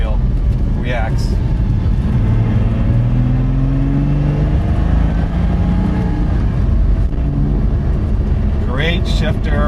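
Revving engine of a modified 2007 Porsche Cayman with a lightweight flywheel, loud and close inside the cabin, pitch rising and falling through throttle blips and a downshift, continuous throughout.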